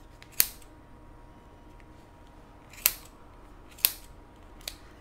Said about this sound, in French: Alors maintenant, je viens couper mes laines.